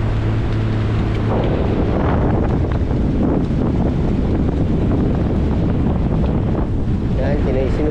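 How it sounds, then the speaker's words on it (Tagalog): Strong wind blows across a boat's pilot house at sea, a loud, continuous buffeting roar over the microphone with washing water underneath and faint voices in the background. "lamig, hangin."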